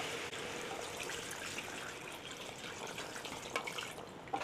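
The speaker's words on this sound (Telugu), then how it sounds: "ఇక ఇప్పుడు నీళ్ళు వేసుకుందాం" Water pours steadily into chicken pulao masala in a cooking pot, giving a continuous splashing rush that stays fairly even for several seconds with no talking.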